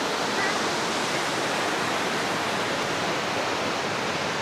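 A waterfall near Kathmandu roars steadily and loudly, a dense unbroken rush of falling water with no pauses.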